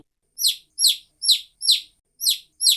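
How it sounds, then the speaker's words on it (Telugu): A chick cheeps in a cartoon story, six sharp high chirps at an even pace, clear and close with silence between them. "ఎక్కడో కోడిపిల్ల అరిచిన శబ్దం వస్తోంది"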